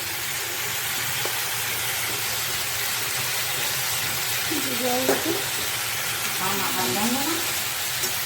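Cumin and ginger paste frying in hot oil for a mixed vegetable curry gives a steady, close sizzle throughout, with a person talking over it at moments.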